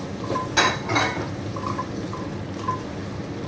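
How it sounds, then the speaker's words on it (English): A spoon stirs spice mix in a metal pan with a few light scrapes and clinks over a soft, faint background, and no one talks. "give it a good stir"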